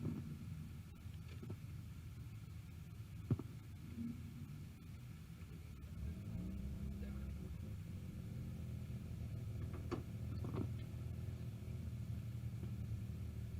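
Nitrous-assisted stick-shift '55 drag car running at a drag racing event, a low rumbling engine drone that swells slightly midway and stays steady, somewhat distant with faint crowd ambience.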